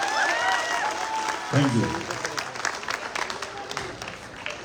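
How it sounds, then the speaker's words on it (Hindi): A crowd at a youth dialogue event with a Rajasthan BJP state president applauds, a diffuse wash of clapping running beneath a voice speaking briefly, then continuing as scattered claps. "लेकिन इसके लिए तालियां बजाइए"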